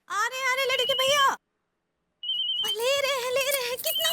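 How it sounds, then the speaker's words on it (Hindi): A household telephone rings briefly between stretches of loud, high-pitched speech, a short electronic trill standing alone before the talking resumes over it. "अरे फोन उठाओ, देखो किसका फोन है।"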